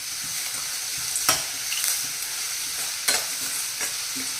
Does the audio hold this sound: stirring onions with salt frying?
yes